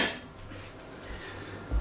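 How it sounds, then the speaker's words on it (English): Ingredients in a cooking pan are stirred around, a metal utensil clinking and scraping against the pan in a soft, close sequence with a brief knock at the end. "Give that a bit of a stir around"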